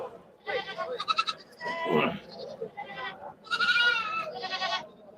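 Goats at the Saturday goat market in Ettayapuram bleat loudly and repeatedly in close, wavering cries that overlap one another, with the crowd murmuring faintly underneath.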